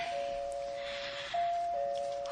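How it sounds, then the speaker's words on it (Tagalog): A doorbell chimes at a condo entrance, a steady electronic tone held and then sounding again, fairly soft and clear with no talking. "Mo-doorbell na ko."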